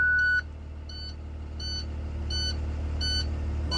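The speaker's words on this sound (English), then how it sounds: "I'm now going to start the engine to refill the tanks." An International bus starts up with an engine idling low and steady, while a short beep gives way to five evenly spaced electronic warning chimes that repeat about once a second.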